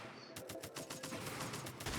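Artillery cannon fire in a tank-and-artillery video game, a rapid volley of loud, sharp booming shots repeating in an uneven burst throughout, with no talking.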